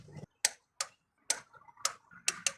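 Sharp, distinct clicks of a torque wrench tightening spark plugs on a VW Golf/Jetta Mk5 2.0 FSI engine, about six separate snaps spaced irregularly, close and clear against near silence.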